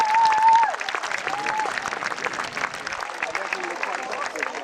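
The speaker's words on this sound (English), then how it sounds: "give them a cheer as they go forward" A festival crowd at a historical re-enactment claps and cheers for a cavalry charge, a dense wash of applause heard at a distance, with a voice speaking over it and a brief whistle at the start.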